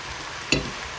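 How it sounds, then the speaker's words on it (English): Browned venison pieces tumble into a casserole pot, giving one short, close sizzling thud against a steady low hiss from the hot pot. "Now add our browned venison."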